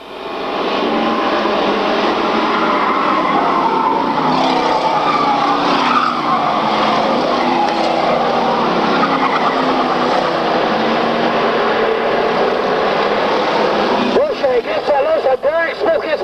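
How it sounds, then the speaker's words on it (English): Race cars roar continuously around an oval track during a 1995 stock car event, a loud, dense engine drone with tyre noise, and an announcer calls the race over it. "Razor Glenn on the move is running car number 20."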